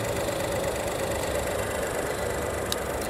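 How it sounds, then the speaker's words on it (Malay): A Proton X50's three-cylinder engine idling just after starting, a steady close hum with slight rough vibration and no talking. "Kita dah start enjin."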